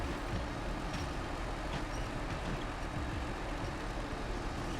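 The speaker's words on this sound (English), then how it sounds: "Just using the winch here, not even using the engine." A truck's winch drags the vehicle along in SnowRunner on the Kola Peninsula with the engine idle, a steady low mechanical rumble and strain that holds evenly throughout, with faint higher clanks now and then.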